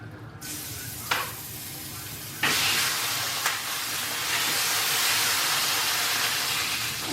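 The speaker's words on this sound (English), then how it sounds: "my skillet is heated up. So I'm gonna put the corn" Corn frying in oil on a heated skillet: a brief hiss at first, then a louder, steady broadband sizzle that holds close and even for several seconds.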